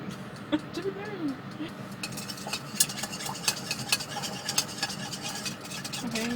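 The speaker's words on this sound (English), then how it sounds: "just mix it all together" A utensil stirs and scrapes through a jacket potato, salmon and mushroom mixture in a bowl, giving soft scraping and clinking taps that recur close by.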